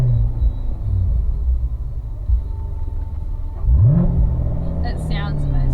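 A 2015 Corvette's engine rumbling low and steady from inside the cabin, then swelling into a sharp rev, with people talking over it.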